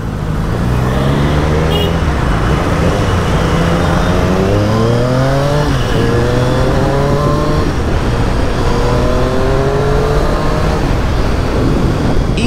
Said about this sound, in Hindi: just 2 twists of the throttle and we are out